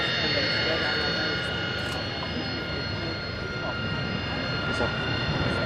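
A Boeing Super Hornet jet at the Farnborough Airshow roars steadily and loudly at close range, a sustained broadband engine rush with whining tones, voices in the crowd beneath it.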